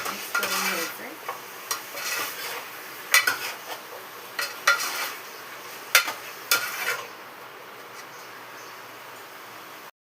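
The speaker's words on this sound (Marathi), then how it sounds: "मस्त पैकी सर्व मिक्स करून घ्यायचं आहे" A spoon scrapes and clinks around a pot of mutton curry with chopped coriander in intermittent strokes, over a faint simmering hiss.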